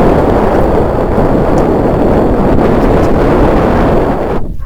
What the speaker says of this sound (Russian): Правда, дует ветер.